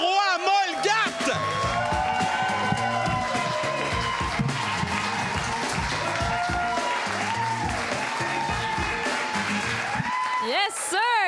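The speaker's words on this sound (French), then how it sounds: "On peut commencer à applaudir Evelyne Roy-Molgat!" An audience applauds a comedian coming on stage, loud sustained clapping and cheering from a crowd, with a voice talking over it and whooping near the end.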